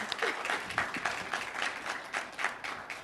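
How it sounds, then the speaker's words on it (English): An audience at a Benedict College event applauds, a dense wash of clapping that swells and dips over a few seconds, with faint voices mixed in. "That deserves a round of applause."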